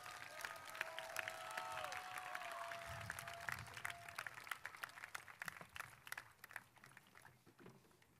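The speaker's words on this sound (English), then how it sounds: "Give them a round of applause." An audience at a high school graduation ceremony applauds the teachers, a sustained patter of many hands clapping that gradually thins out, with scattered crowd noise underneath.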